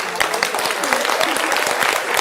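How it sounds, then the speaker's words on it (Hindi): Audience applause in a television studio during a Madhya Pradesh election survey programme. Dense, steady clapping runs for the whole brief stretch, with speech faintly mixed in. "जोरदार तालियां सापरा साहब के लिए"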